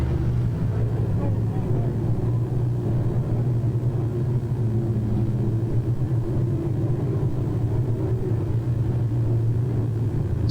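Late model race cars at Cherokee Speedway in Gaffney, South Carolina make a continuous low engine rumble and drone, steady and somewhat distant throughout.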